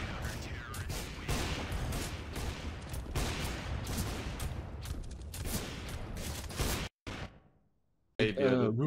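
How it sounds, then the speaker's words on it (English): Rapid gunfire from a Counter-Strike style shooter on the Nuke map, with AWP sniper rifle shots amid dense loud shots and mechanical clatter, continuous for about seven seconds before a brief gap and a burst near the end. "shoot the AWP and reload it real quick"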